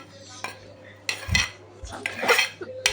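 Pot and utensil clatter as semolina is stirred into boiling jaggery water in a metal pot, with several scraping knocks and clinks at close range and no talking.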